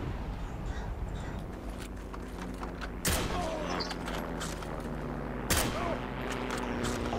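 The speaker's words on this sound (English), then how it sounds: "this AA gun is so nice to kill Russians" Bursts of anti-aircraft gunfire in a World War II shooter video game, with two sharp heavy reports standing out over a constant rumbling battlefield din and mechanical clatter, moderately loud.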